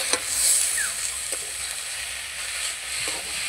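Chowmein stir-fried with soy and chili sauce gives a soft, continuous sizzle in the pan, with a few light scrapes and taps of a spatula mixing the noodles.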